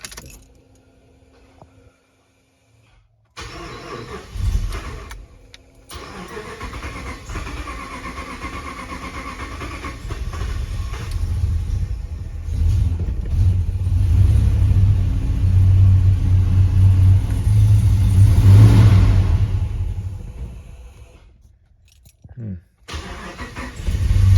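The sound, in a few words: Hemi-swapped Grand Wagoneer engine cranking, starting and idling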